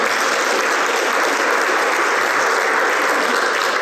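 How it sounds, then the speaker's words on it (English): A dense round of applause from an audience at a Toyota academy event in Mississippi, steady and loud throughout with no pauses. "Let's give them a round of applause."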